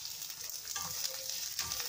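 Garlic and onion fry in a pan, giving a soft, steady sizzle and crackle with a few faint stirring scrapes, quiet and close, with no voices.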